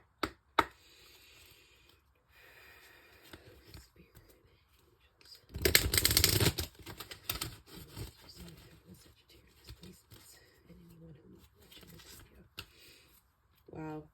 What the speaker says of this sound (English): Warning, I am going to be shuffling, so if you have on earphones,